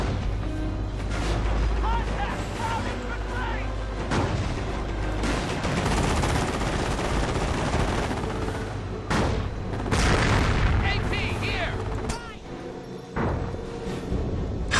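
Battle sounds in a World War II strategy game, with machine gun fire, booms and artillery-like impacts overlapping in a steady, dense din as a person talks throughout.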